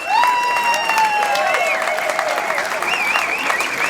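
A rally crowd at the NOBAN gathering in Geneva applauds continuously. Cheers and whistles rise over the clapping.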